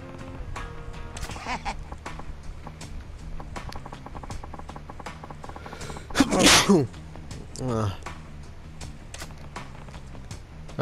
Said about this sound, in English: I was trying not to sneeze, but I did anyway.